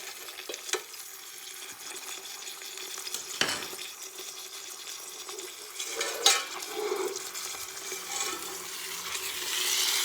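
Pot roast searing in a hot pan, a soft crackling sizzle with occasional louder scraping or stirring bursts, moderately close and unaccompanied by speech.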